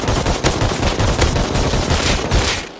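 Rapid, loud gunfire from a PvP shooter game with an SKS and AK rifles, bursts of close shots rattling over a dense, noisy background for nearly three seconds.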